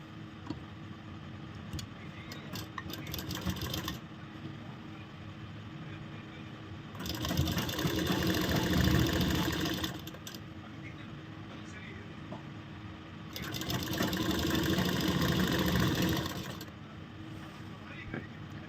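A sewing machine stitches a kurti hem in bursts, its motor whirring and rattling loudly for a few seconds at a time, then going quiet between runs.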